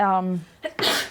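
One person sneezes during a spoken exam discussion, a quick voiced intake followed by a sharp, breathy burst, close and loud.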